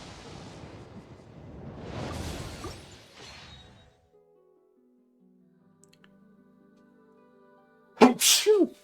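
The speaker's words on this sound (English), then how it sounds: "Don't want that ferret sneezing all day, Paw Prince." A ferret sneezes in Genshin Impact: one sharp, close sneeze near the end. Before it, a voice talks over a rumbling background, then faint tonal game sounds fill a quiet gap.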